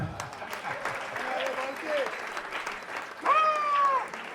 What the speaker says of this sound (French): Acclame encore le Seigneur.